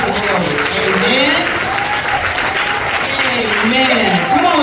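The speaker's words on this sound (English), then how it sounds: "let's just give them a hand clap of praise to God be the glory" Loud, sustained applause from a church congregation during a scholarship program service, with a voice talking over the clapping throughout.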